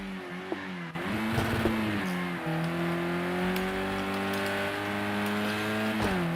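A virtual racing car in a Greenpower Grand Prix game at Oulton Park weaves to warm its tyres, its engine holding a steady, loud electronic drone with slight pitch shifts.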